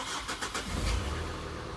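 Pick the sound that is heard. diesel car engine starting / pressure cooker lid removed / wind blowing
diesel car engine starting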